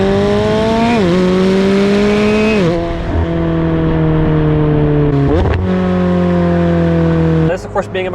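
McLaren 720S Spider with a carbon fibre tub pulling hard, its loud engine note climbing through the revs with a sharp upshift near the start and more gear changes later, a steady close roar throughout.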